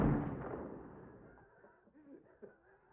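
A single sharp gunshot in a tense film scene opens at once and is loud, then decays into a faint room tail with quiet movement after it.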